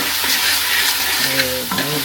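Boiled noodles and lightly fried vegetables are stir-fried in a pan, giving a steady loud sizzle with scraping stirs. A voice briefly joins near the end.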